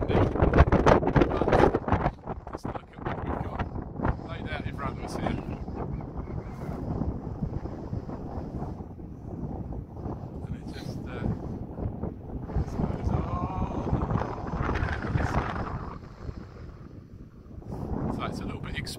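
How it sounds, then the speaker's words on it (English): Strong gusting wind buffets the microphone on an exposed hillside on the Isle of Jura, a loud continuous roar that swells and eases over the whole stretch, with a voice speaking faintly underneath. "It's a bit windy"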